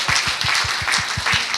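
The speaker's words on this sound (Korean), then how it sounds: "우리 2019년을 주신 하나님께 감사와 영광의 박수 올리겠습니다" A church congregation at a New Year's Eve worship service claps in a steady, rhythmic beat, about eight even claps in quick succession, loud and close.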